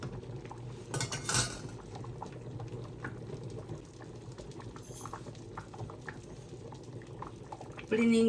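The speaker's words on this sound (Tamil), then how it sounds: "இந்த ஒடியல் மாவை கரைச்சி ஊற்றி இந்த கூழ் காய்ச்சலாம்" Pot of Sri Lankan Jaffna odiyal koozh, a porridge of palmyra odiyal flour stirred into liquid, boiling steadily on the stove with a dense low bubbling, a few clinks of pot and utensil near the start and a sharper knock at the end.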